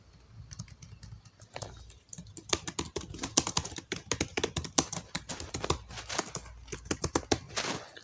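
Fingers type on a computer keyboard in quick, irregular bursts of clicky keystrokes, close and clear, with brief pauses between runs.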